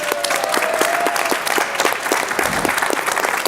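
A science slam audience on artificial intelligence and machine learning breaks into loud, steady, continuous applause, dense clapping from a full room throughout.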